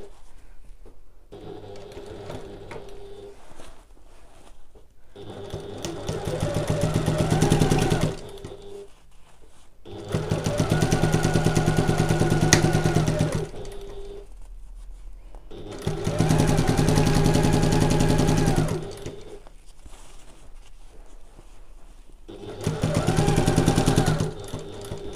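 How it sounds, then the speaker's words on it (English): A home sewing machine stitches along a basting line with backstitching at each end, running in four separate bursts of steady mechanical whirring with quiet pauses between them. "So I've sewn along that original line of basting stitches, and I've backstitched at the start and the end"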